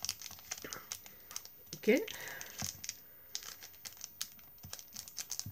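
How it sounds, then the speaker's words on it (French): Paper crinkling while a tea pouch is folded by hand, with soft scattered rustles and crisp crackles near the microphone and a brief spoken word in between. "Ça va continuer à faire du bruit. Je vais commencer à plier là et là vers le milieu."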